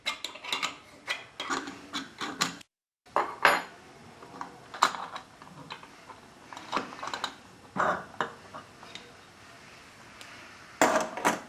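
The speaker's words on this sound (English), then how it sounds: "Loosen and remove the upper clamp." Metal clicks, clanks and scrapes as the upper clamp on an Alfa Laval Unique single seat valve is loosened and pulled off, arriving in close, irregular bursts with brief quiet gaps.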